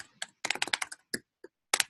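Quick bursts of typing on a computer keyboard, close and crisp. Clusters of rapid key clicks are broken by short pauses and a few isolated taps.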